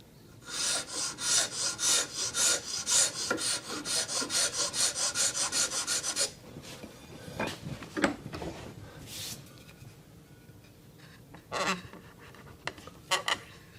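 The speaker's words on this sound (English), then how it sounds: "I am using a float now to pare these down instead of a shoulder plane." A woodworking float pares down a wooden tenon in a quick run of rhythmic rasping strokes, then slows to a few scattered, separate scrapes, close and moderately loud with no talk.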